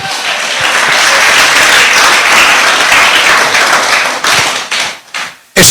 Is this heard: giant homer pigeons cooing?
no